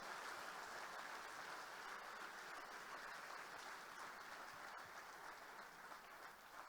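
A congregation claps steadily in a church during a Spanish-language sermon at a church-growth congress, a dense, even wash of applause filling the room for several seconds without a break.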